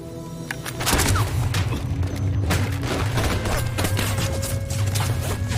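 A rapid, chaotic burst of gunfire from a zombie drama crackles and booms amid loud mechanical clatter, with shots repeating irregularly over a dense, noisy background.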